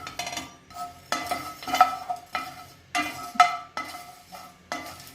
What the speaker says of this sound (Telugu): ఇవి కొంచెం రోస్ట్ చేసుకుందాము, కొంచెం మంచి ఆరోమా వచ్చే వరకు మిక్స్ చేసుకుందాము